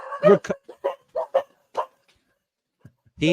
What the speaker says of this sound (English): my dogs go off in the background for everybody with a knock